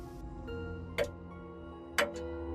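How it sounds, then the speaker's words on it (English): A small clock ticks steadily in a quiet room, with faint soft ticks between two sharper, louder clicks roughly a second apart. "heard the tiny clock ticking"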